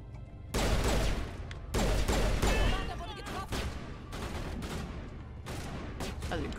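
Gunfire in Mass Effect Legendary Edition: several loud bursts of shooting and impacts in quick succession, followed by continued weaker combat noise, with a voice speaking briefly underneath.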